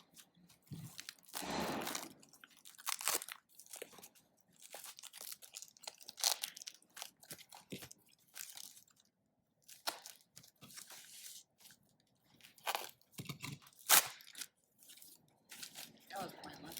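A shipping box holding a motor assembly being cut open, with irregular crinkling, tearing and crunching of cardboard and packing material at close range, coming in bursts with pauses between them.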